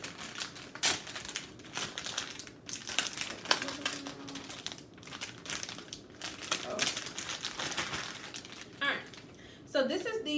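Packaging around a 20-inch Brazilian natural wave hair bundle is opened, with repeated close crinkling, crumpling and tearing in bursts over about ten seconds, ending in a louder rustle.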